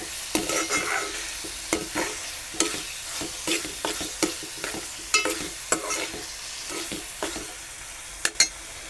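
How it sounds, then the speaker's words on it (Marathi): Homemade pickle cooking in a pan on a gas stove while a spoon stirs it, with soft sizzling under repeated scraping clinks of the utensil against the pan, close and fairly quiet. "काढून 5 मिनटं गॅसवर ठेवू तर आपलं लोणचं तयार होईल."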